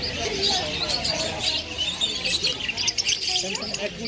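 Caged birds in a shop chirp and tweet in quick, overlapping bursts close by, with a voice talking over the busy chatter throughout.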